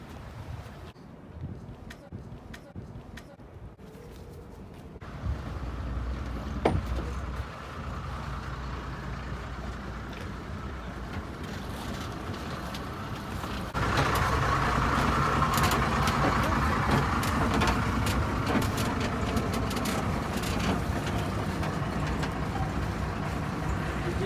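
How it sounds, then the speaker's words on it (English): Boat to Queensborough underway, a droning engine rumble mixed with wind noise that steps up louder partway through and stays steady, with people talking intermittently over it. "This is the boat to Queensborough."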